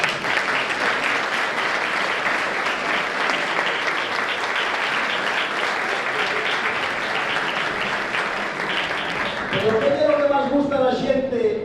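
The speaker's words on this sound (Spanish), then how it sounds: "Por eso aplaudo." Audience applause at a gathering for Asturian Christmas songs, loud and sustained for about ten seconds before fading into a voice speaking at the end.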